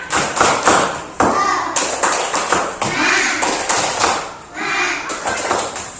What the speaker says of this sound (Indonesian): Tepuk tangan semuanya, semangat